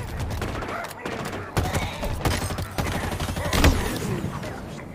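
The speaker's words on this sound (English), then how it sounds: "I guess one of those grenades got me." Explosions and gunfire in Halo Infinite combat: repeated loud blasts and bursts of shots in a dense, chaotic battle mix, with a sharp peak near the end.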